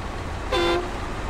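A car horn in a driving video game gives one short steady toot of about a third of a second, clear and close over low background rumble, with no talking.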